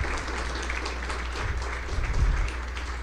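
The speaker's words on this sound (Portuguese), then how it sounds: "eu gostaria que vocês dessem uma salva de palmas, uma calorosa salva de palmas" Warm applause from an audience at an evening gathering, a dense, even patter of many hands with a low hum underneath and a slight swell toward the end, with no voices over it.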